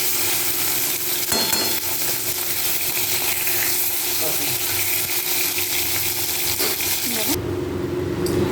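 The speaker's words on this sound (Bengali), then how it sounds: "এবার মাছগুলোকে ভেজে তুলে রাখলাম" Fish sizzling in hot oil in a pan for a Bengali fish curry, a steady close crackle and hiss with occasional utensil clinks.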